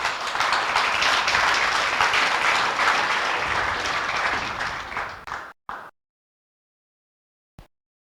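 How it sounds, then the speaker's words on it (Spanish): A church congregation breaks into sustained applause, a dense, loud wash of clapping lasting about five seconds before cutting off abruptly, followed by near silence and a brief stray sound. "¿Cuántos damos un voto de aplauso por eso?"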